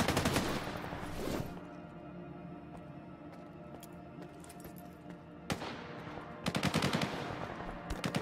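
Automated turret gunfire in S.T.A.L.K.E.R. 2 (Heart of Chornobyl): two loud bursts of rapid shots, one at the start and one near the end, with a quieter humming stretch between and no talking.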